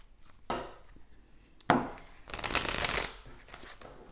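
Tarot oracle cards shuffled and drawn at a reading table: two quick riffling snaps, then a longer brisk shuffle, close and crisp, with no talk.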